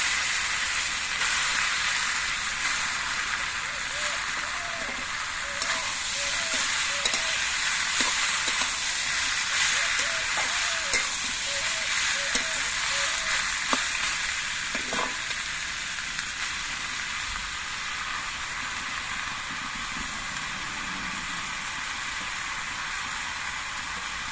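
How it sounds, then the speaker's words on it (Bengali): Bottle gourd pieces sizzle in hot oil with a little sugar for a shukto, making a loud, dense, continuous frying hiss with faint stirring scrapes, steady for the whole stretch. "চিনিটা একটু তেলের মধ্যে মেরে চেড়ে দিয়ে এর মধ্যে লাউগুলো দিয়ে দিচ্ছি"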